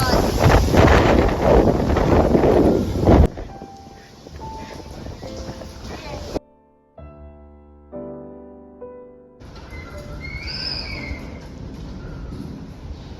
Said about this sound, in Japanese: この風の音聞こえるでしょうか